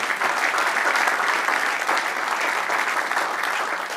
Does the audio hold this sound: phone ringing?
no